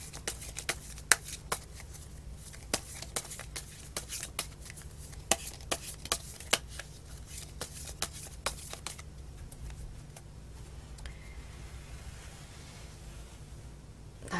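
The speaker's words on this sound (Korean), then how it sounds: "추가 카드 한번 뽑아볼게요." Tarot cards are shuffled and drawn by hand, with sharp slaps and riffles scattered through the first two-thirds before fading to soft rustling, close and fairly quiet.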